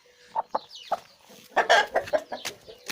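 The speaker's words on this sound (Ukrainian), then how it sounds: "Що у нас тут? Курка." Several short clucks from chickens nearby, sparse at first and then coming in a quicker, louder cluster.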